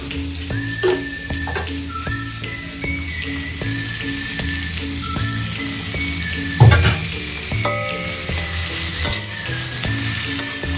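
Garlic frying in a pan for fish curry, a steady sizzle with repeated stirring and scraping, a louder clatter midway and occasional tonal hums, no voices.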